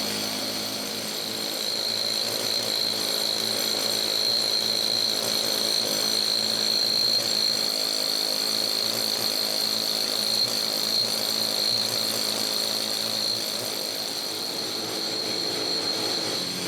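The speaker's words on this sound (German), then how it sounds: "bohrt Löcher, die er zum Zerteilen des Steins braucht" Power drill boring holes into a block of stone in a stonemason's gravestone workshop, a steady, continuous high whine and grinding drone lasting throughout at moderate distance, with no talking.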